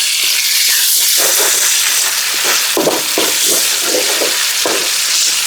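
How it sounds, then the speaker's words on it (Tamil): Chicken wings fry loudly in devil sauce, a dense continuous sizzle and hiss with repeated stirring scrapes running through it, close up and with no talking. "நல்லா ஃப்ரை ஆகிட்டு இருக்கு"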